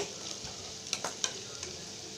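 Ridge gourd pieces frying with onions in a pan give a steady close sizzle, with a few sharp stirring clinks and scrapes near the middle of the moment.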